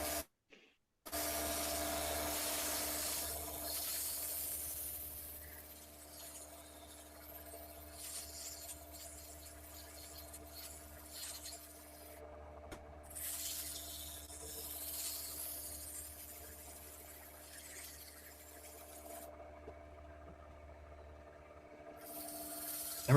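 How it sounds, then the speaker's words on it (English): Sandpaper rubbing the inside of a wood bowl turning on a lathe at about 300 RPM gives a soft, steady hiss and scratch, faint and continuous with brief breaks, without speech. "I'm only sanding with the lathe running about 300 RPM."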